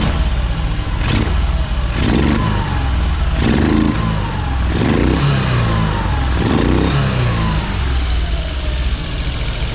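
A three-wheeled vehicle's engine idles roughly and is blipped with the throttle about five times, each loud rev rising and falling close by over a constant running drone.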